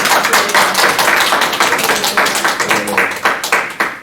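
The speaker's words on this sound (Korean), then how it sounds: "다시 한번 우리 박수로 주님을 찬양합니다" A church congregation claps in praise during a worship service, a fast, steady rhythm of many hands that is loud and close and carries on with no talking.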